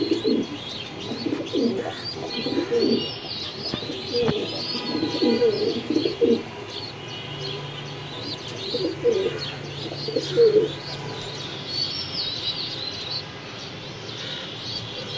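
Many racing pigeons cooing together in a steady, overlapping chorus, with scattered high chirps and tweets above the low throaty calls.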